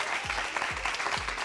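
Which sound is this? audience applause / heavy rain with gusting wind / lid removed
audience applause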